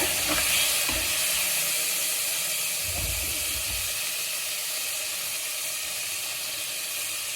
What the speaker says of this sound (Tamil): வெங்காயம் தக்காளி ரெண்டு போட்டணுங்க